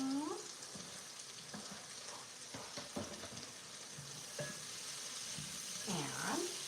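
Carrots and potatoes sauté in a pan on the stove with a soft, continuous sizzle and a few light stirring clatters. A voice talks briefly at the beginning and again near the end.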